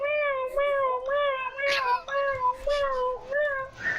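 During an online game, a person imitates a cat with a string of drawn-out, nasal vocal meows, about seven in quick succession, close to the microphone and clear, with a few clicks between them.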